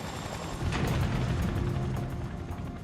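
A CH-47 Chinook twin-rotor helicopter climbs slowly under heavy thrust, a loud, dense roar with a rhythmic, rapid blade chop that runs steadily throughout.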